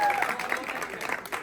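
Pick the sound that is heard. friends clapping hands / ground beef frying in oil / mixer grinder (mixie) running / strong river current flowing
friends clapping hands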